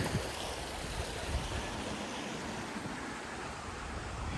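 The River Wye flows beside a riverside path at Bakewell in the Peak District, a steady broadband rush of water that stays even and close for the whole stretch, with no talking.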